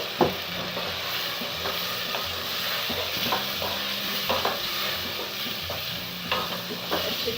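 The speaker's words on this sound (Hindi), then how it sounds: "अच्छे तरीके से हम भून लेंगे" Potato chicken curry with spice paste sizzles and fries in a pan while a spoon stirs it, with steady frying hiss, repeated scraping strokes and occasional soft clinks of utensil on pot, close and fairly loud.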